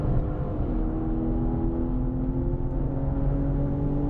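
Close in-cabin engine drone of a BMW M car pulling hard on the Sonoma Raceway track, pitch climbing smoothly under throttle and dipping briefly, steady and loud with no talk.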